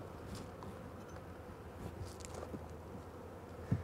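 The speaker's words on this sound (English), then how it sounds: "You can see that the bees are fairly calm. They're not really getting in our face or trying to be aggressive." Honey bees buzz steadily around a lifted hive frame at a lavender bee farm, a close, continuous hum with a few louder passes and a brief bump near the end.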